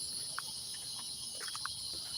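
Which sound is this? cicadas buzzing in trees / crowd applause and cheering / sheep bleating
cicadas buzzing in trees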